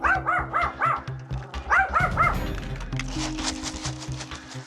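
Several dogs bark in quick yips and bow-wows on a grooming salon floor, with two short bursts of barking near the start followed by a noisy, busy room.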